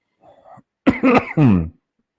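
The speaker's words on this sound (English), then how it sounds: "Apologize for coughing here" A person coughs a few times up close, a soft throaty sound followed by two harsher, louder coughs in quick succession.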